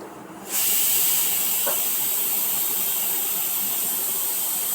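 A pressure cooker whistle blows a sharp, sustained hiss of escaping steam, starting abruptly after a brief quiet moment and holding steady and loud to the end.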